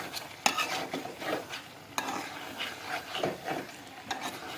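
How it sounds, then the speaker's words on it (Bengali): A spoon scrapes and stirs spices through meat cooking in a pan, rhythmic rubbing strokes with a soft sizzle underneath, close and fairly loud, with a couple of sharper knocks against the pan. "এগুলাতে একটু মশলাগুলো আমি মিক্স করে নিব"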